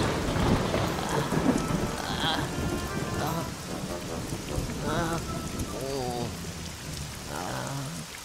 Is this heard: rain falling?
yes